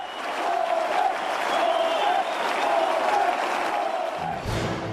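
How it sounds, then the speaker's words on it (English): A large crowd roars and cheers continuously at a Jeremy Corbyn rally in Liverpool, a dense sustained wash of voices with rising chants, ending abruptly. "He can still attract a big crowd."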